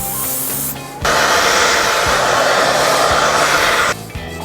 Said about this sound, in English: I'm just gonna spray this right where the wig was